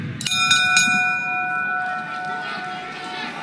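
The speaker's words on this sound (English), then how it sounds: "at the sound of the bell" A boxing ring bell sounds at the Anthony Joshua vs. Kubrat Pulev heavyweight fight in London: three quick, bright clangs, then a long metallic ring that fades over a murmuring arena.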